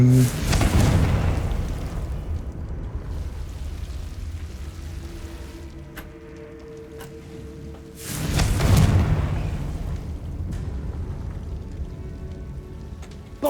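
A fire-blast spell goes off in Hogwarts Legacy, a video game, with two heavy booming bursts several seconds apart over rumbling game ambience.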